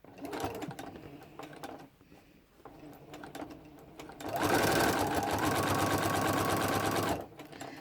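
Close, loud stitching from a sewing machine runs steadily for about three seconds while quilt binding is sewn, preceded by scattered clicks and soft fabric handling.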